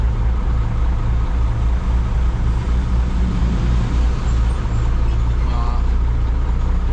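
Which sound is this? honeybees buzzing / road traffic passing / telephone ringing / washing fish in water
road traffic passing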